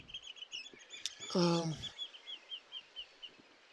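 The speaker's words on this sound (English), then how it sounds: "Birds" Seabirds call repeatedly at a beach at low tide with rocks exposed, a steady series of thin chirps over distant surf-like noise, with one louder harsh call near the middle.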